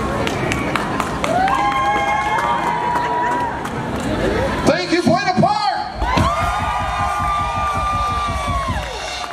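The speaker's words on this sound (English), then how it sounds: "when it's time for you to clap for us, just give it a whole lot more than you really feel" An audience at a stunt show at Knott's Berry Farm claps, cheers and shouts in a loud, dense crowd roar that swells and dips, with a pause near the middle. A voice talks over it.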